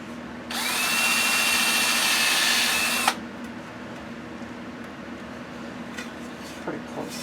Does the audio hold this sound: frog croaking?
no